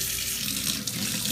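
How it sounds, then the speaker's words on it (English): Cold water runs steadily from a tap over a hot Keurig K-Cup 2.0 capsule, a constant close hiss and splash with no pauses and no voices. "for a short period run some cold water over it"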